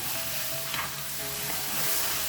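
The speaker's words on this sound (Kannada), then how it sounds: "ಇವಾಗ ಕರಿಬೇವು ಮತ್ತು ಇದ್ರದ್ದು ಬೆಳ್ಳುಳ್ಳಿದು ಹಸಿ ವಾಸನೆ ಹೋಗೋ ತನಕ ಹುರ್ಕೋಬೇಕು" Garlic and curry leaf paste sizzles steadily in a hot pan, a continuous crackling fry with faint stirring scrapes and no voices.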